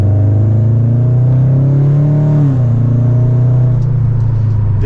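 A Subaru BRZ's engine drones loud and close from inside the car while driving, a steady low rumble whose pitch rises briefly, then drops and settles into an even cruise, with no talking.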